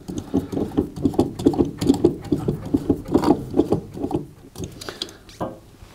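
A ratchet spins a nut onto the fan shaft of a Zanussi tumble dryer, giving a rapid run of light clicking that pauses and restarts over several seconds, close and fairly loud.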